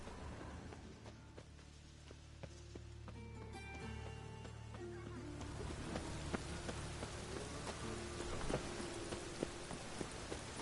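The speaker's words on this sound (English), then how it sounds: "Raining again." Rain in The Witcher 3 patters quietly and steadily on surfaces, a soft continuous hiss with scattered drops and faint hoof-like clops mixed in.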